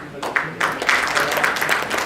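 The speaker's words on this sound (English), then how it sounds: "A big applause for our panelists" An audience applauds for panelists at a security technology conference, a dense, steady burst of clapping from a crowd that carries on without a break.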